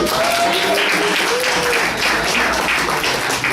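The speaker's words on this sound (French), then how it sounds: "on peut l'applaudir déjà" Applause from an audience at a CADTM association session of the 2013 World Social Forum in Tunisia, a dense continuous roar of clapping with a faint tone drifting underneath.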